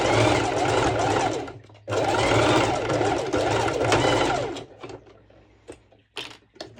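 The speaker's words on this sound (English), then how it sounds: "I will place it on top of each other like this, and I will make a straight stitch" A sewing machine running a straight stitch over layered elastic band, two long fast whirring bursts separated by a brief pause, then short stop-start clicks and taps.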